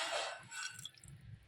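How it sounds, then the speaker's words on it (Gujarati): Water poured into a pan of marinated vegetables while cooking at home, a faint soft trickle and splash with low bubbling, fairly quiet and alone. "હવે એના અંદર નાખી દઈએ થોડું પાણી."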